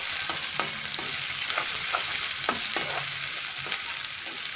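Onions fry in oil as they turn reddish for a sprouted moth bean and cauliflower kurma. A continuous near sizzle sounds throughout, with a few sharp spoon clinks and scrapes against the pan.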